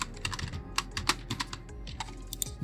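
Rapid, uneven keystrokes on a computer keyboard as C++/Java/Python code is typed, close and fairly loud, with clustered clicks and short pauses and no voice.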